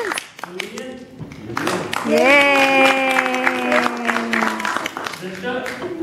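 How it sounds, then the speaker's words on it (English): Clapping and cheering from a small audience at a Cub Scout pack Bobcat badge ceremony, mixed with excited children's voices and a long sung-out shout rising over the claps. "Clap your hands."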